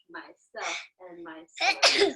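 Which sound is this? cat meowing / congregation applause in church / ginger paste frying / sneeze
sneeze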